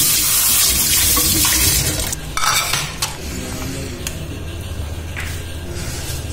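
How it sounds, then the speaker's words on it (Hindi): Water runs from a tap as a plate is washed in a home kitchen, a strong hissing stream at first that eases into a softer flow, with a few clinks of dishware nearby. "थोड़ी सी प्लेट को धो लेते हैं।"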